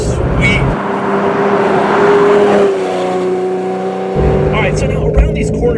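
Ferrari Testarossa flat-twelve engine while driving, a loud close interior drone that holds steady and shifts pitch between gears, with a spoken voice over it.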